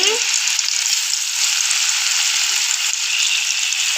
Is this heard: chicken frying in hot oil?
yes